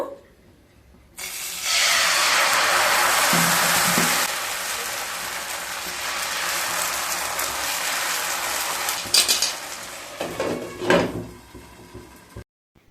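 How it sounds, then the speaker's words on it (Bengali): Rice batter hits a hot pan with a sudden loud hiss that settles into a steady sizzle, followed by a few clattering knocks near the end. "প্যানটা যখন গরম হয়ে যাবে তখন 1 হাতা ব্যাটার দিয়ে দেব।"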